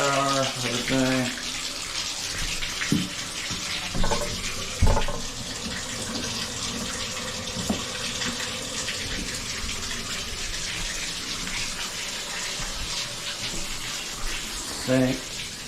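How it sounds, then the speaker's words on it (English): Water runs steadily from a shower upstairs, tested after a toilet flange and drain pipe repair. It makes a continuous broadband rush with a few soft knocks along the way. "Alright, run the shower,"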